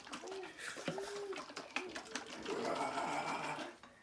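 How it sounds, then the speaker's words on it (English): Salad dressing is shaken hard in a closed jar, a rapid rattling slosh lasting about a second near the end. A voice speaks briefly before it. "then you put it in the jar and you're going to want to shake it real good"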